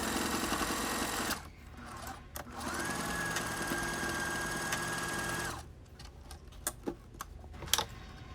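Sewing machine stitching wig wefts for a closure wig unit, a steady close mechanical whir running in two long stretches with a short pause between, followed by a few scattered clicks and taps.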